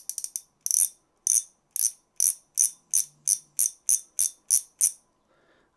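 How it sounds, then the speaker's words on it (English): Drag on a Kastking Kestrel spinning fishing reel clicking loudly: a rapid burst of sharp ratcheting clicks, then a regular run of about a dozen crisp clicks, close up and alone. "the drag sound or braking sound is very, very loud"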